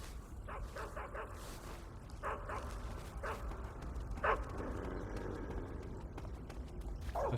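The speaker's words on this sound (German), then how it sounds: "Da ist schon wieder ein Hund." A dog in the stealth video game Metal Gear Solid 3: Snake Eater barks in short yips and bow-wows. The barks are scattered and moderately distant, over a constant low rumbling game ambience.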